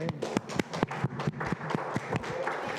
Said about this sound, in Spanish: ¿Se pueden aplaudir al Señor?